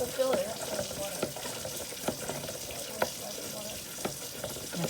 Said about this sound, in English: So fill it up with water.